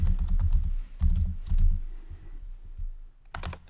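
Fingers type a name on a computer keyboard in short rapid bursts of clicky keystrokes, close and fairly loud, with brief pauses between the runs and no voices.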